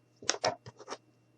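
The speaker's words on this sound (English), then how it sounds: "I'm going to go ahead and cut here." Paper being cut with scissors during an Easter decoration craft: a short run of four or five crisp snips close to the microphone, each one brief and papery, with quiet in between and no talking.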